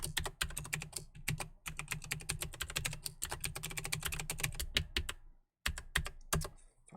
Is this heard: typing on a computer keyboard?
yes